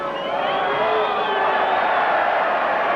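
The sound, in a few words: rugby league crowd cheering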